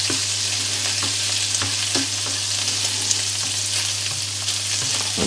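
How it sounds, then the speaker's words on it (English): Bacon frying in a pan ahead of onions for sautéed green beans, a loud, steady, close sizzle with scattered small pops and stirring clatter throughout, no voices. "we give the bacon a head start, and then we're adding the onion."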